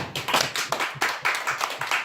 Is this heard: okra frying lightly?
no